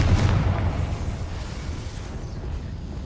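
A Confringo fire spell blasting in Hogwarts Legacy, a single deep explosive boom at the start that decays into a low rumbling tail, fairly loud and without talk.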